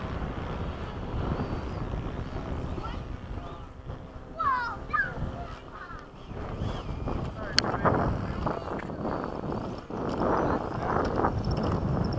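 Wind gusts roar across the microphone during flight, a continuous broadband rumble that swells and eases throughout, with a brief sharp click partway through.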